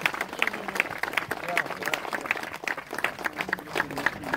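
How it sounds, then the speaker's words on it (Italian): An audience applauds Pietro Ricci, a steady patter of clapping at moderate level under a man's ongoing speech. "Un applauso, si sente."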